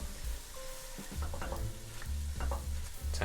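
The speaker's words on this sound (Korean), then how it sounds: "미역을 볶아주세요" Seaweed stir-fried with meat and soy sauce in a pan over medium heat, an even crackling sizzle broken by repeated scraping strokes of a spatula, close up and continuous with no talking.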